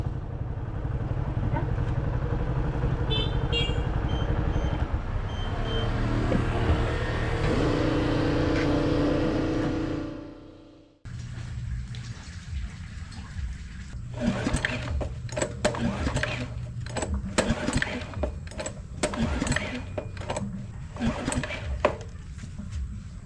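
A farm water pump engine used for irrigating rice fields runs steadily with a loud mechanical drone, cuts out briefly, then chugs back with rattling, uneven bursts.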